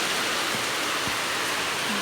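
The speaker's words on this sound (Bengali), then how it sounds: "প্রচণ্ড ঝড় বৃষ্টি শুরু হয়ে গেছে" Heavy storm rain with gusty wind roars as a dense, loud, unbroken hiss, alone with no voices.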